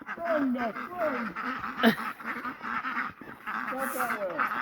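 A duck running through snow gives a few quacking calls early on and again near the end, close by, over a steady noisy outdoor background.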